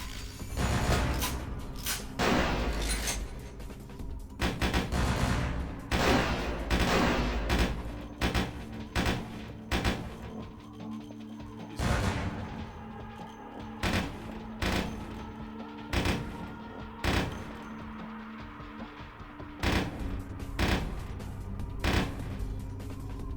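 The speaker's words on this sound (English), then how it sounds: "I have an automatic weapon." Repeated bursts of automatic gunfire from an automatic weapon in the game Vampire: the Masquerade - Bloodlines, sharp rattling volleys with booming impacts scattered through a tense ambient game soundtrack.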